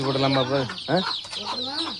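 Chickens and small chicks clucking in a coop, a steady run of close, overlapping calls and peeps with short gaps between bursts.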